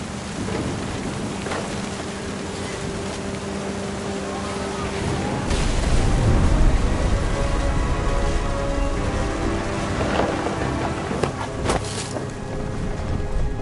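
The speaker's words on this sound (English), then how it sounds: "The thunder sounded much too close and full of angry power." Rain pours steadily in a stormy scene from the video game What Remains of Edith Finch, with heavy thunder cracking and rumbling loudly close by partway through and a few sharp bursts later, under background music.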